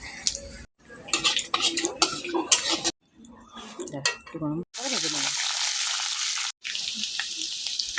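Whole cardamom and bay leaves hit hot oil in a pan where fish pieces were fried, giving a loud, bright hiss in bursts alongside clattering utensils, pan scrapes and moments of talk.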